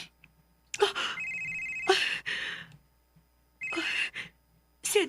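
A telephone rings with an incoming call, two separate bursts of electronic ringing with pauses between, fairly close and clear in a quiet room.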